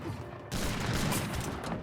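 Massed musket volleys from Hoostor and Gurkha infantry units in an Age of Empires 3 battle, a dense crackling fusillade of overlapping shots that stays loud and continuous.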